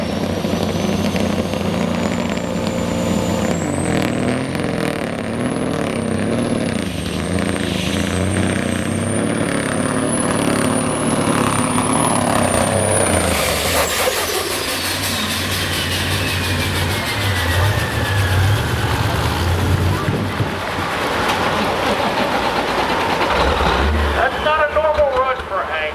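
A diesel truck drags a sled down the track at a truck pull, its engine roaring loudly and continuously, rising into a high whistling turbo whine before winding down, with crowd noise and an announcer underneath.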